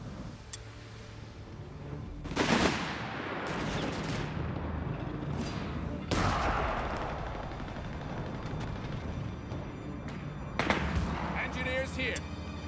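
Artillery fire in Company of Heroes 3 during a US advance: several sharp, distant booms land a few seconds apart over a low rumbling battlefield bed, with a voice speaking in between.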